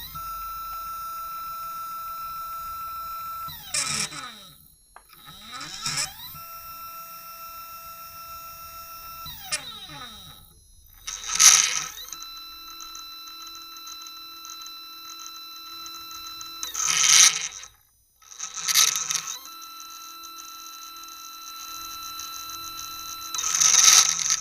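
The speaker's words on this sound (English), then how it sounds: "here's the sound of the mount without the belt drive" A Skywatcher HEQ-5 telescope mount with its original gear drive, no belt, slews with a whining, buzzing mechanical tone in several separate bursts of varying length, up close and with no voices.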